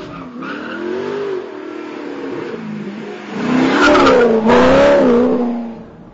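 An Alfa Romeo 8C, a rear-wheel-drive Italian sports car, drives along a road with a steady engine note that swells louder and higher as it accelerates through the gears, close by, with no talk.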